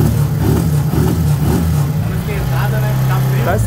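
A motorcycle engine with a warm, carbureted, choke-pulled idle revs and rumbles steadily up close, loud and continuous throughout.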